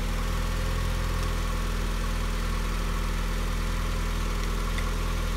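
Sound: Mazda Miata engine idling with radiator cap off

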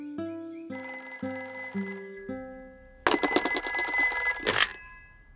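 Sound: telephone ringing in Peppa Pig cartoon

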